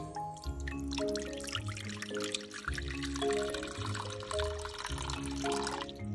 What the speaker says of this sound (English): Buddy, let's top your water off.